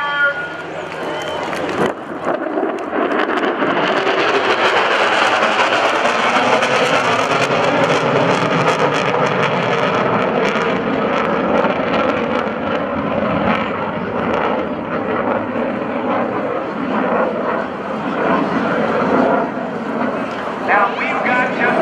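A US Navy Legacy Flight formation roars past at the 2012 NAS Oceana airshow, with a loud, sustained engine drone that swells and holds while an announcer speaks over a PA.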